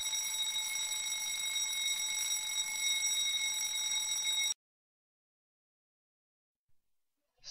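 A fire alarm blares with a continuous, piercing electronic tone for several seconds, then cuts off abruptly into silence, leaving only a faint brief knock near the end.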